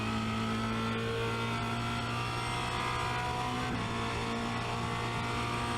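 A Formula Renault 2.0 race car accelerates out of a turn at Spa-Francorchamps, its engine droning steadily and close with a constant mid-pitched tone throughout.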